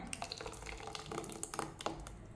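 Water poured into a bowl of ground coconut-flower batter for a traditional Kannada dish, a soft, close trickle with small splashy bursts, fairly faint throughout.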